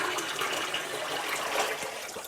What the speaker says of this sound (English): We're just going to dump it into the sink